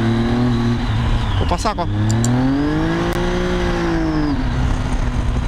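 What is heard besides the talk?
motorcycle revving with a faulty clutch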